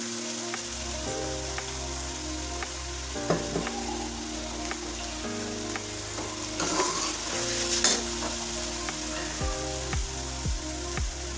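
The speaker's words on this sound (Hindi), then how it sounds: "अब इसमें उबाल किए हुए राइस डालेंगे।" Boiled rice going into hot sugar syrup in a pan, with steady stirring and soft scraping over a constant sizzling bubble; no one speaks.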